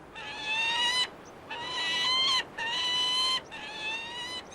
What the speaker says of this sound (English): The peregrine falcon is warning intruders away from his mate and their nest. He'll also squawk to talk to her.